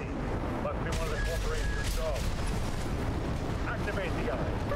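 Dual-wielded basic rifles firing in the mech game Armored Core 6, rapid repeated shots and booming impacts over a dense, continuous battle din, with someone talking over it.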